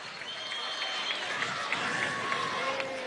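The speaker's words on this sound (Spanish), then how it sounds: "Al profesor Eduardo Álvarez, un aplauso para él del Comité Olímpico." Audience at a Venezuelan state ceremony honoring Rio 2016 Olympic medalists gives steady, continuous applause and crowd noise that fills the room throughout, with a voice faintly audible beneath.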